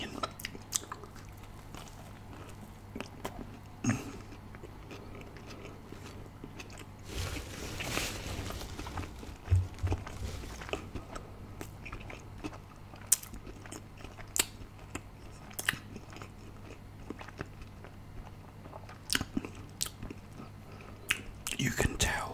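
Close-miked chewing and biting of a KFC vegan burger, soft wet crunches and munching in an irregular rhythm, with quiet whispered talk in between.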